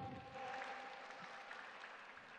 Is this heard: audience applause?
yes